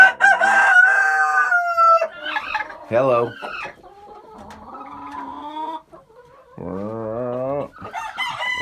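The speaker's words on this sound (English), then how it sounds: "Look at these chickens right here." Chickens cluck and squawk close by, with a rooster-like crow and drawn-out hen calls; a person briefly speaks amid the birds.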